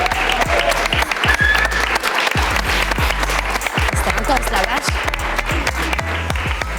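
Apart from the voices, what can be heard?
studio audience applauding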